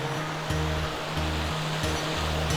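Continuous loud roar of river rapids rushing beside a causeway, broadband and steady throughout, with a low periodic engine-like hum pulsing underneath.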